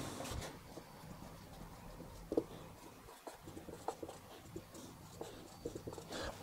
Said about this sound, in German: Darum schreibe ich es einmal dick da unten hin.